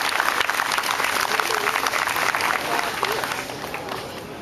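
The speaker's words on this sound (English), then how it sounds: "Give them a round of applause." Steady applause from a crowd at an outdoor September 11th memorial gathering in Marine Park, dense and continuous clapping that slowly tapers off.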